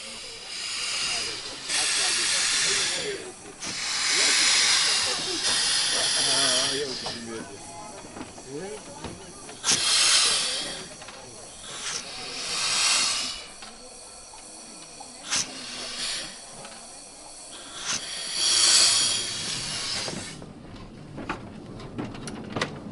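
Steam locomotive Mite on the Ravenglass and Eskdale Railway hisses in long, loud bursts of escaping steam at a station, rising and falling repeatedly, with people talking faintly nearby.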